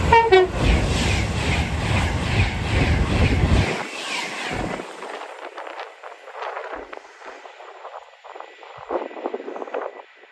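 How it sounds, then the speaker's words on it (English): An Avanti West Coast Class 390 Pendolino on a Blackpool North to Birmingham service roars past at speed near Acton Bridge on the West Coast Main Line, loud and close with a horn note, then fades fast into quiet. "Passing through in a minute is a Blackpool North to Birmingham Avanti West Coast service, formed of a Class 390 Pendolino"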